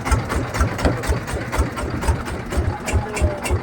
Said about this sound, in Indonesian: Nah ini motor-motor tuh, lihat teman-teman semua, yang mau nyebrang pasti naik ini.